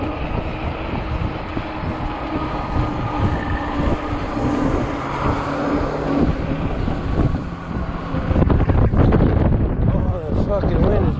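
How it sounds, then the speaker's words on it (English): A cold, strong wind roars and buffets the microphone during a ride on a 20-inch 48V Ecotric fat-tire e-bike. The rumble is loud and continuous and grows rougher and heavier toward the end. "Oh, the fucking wind is wicked, dude."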